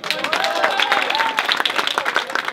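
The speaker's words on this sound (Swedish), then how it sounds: "Applåder!" Audience at a DreamHack gaming event breaks into applause, a dense steady clatter of clapping and crowd noise filling the whole stretch with some cheering mixed in.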